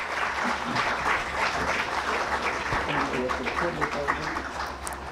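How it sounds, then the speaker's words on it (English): An audience gives dense, steady applause at the launch of an education report, the clapping filling the whole stretch with a few voices mixed in. "Please give them a huge round of applause"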